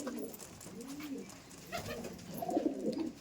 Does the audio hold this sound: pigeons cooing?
yes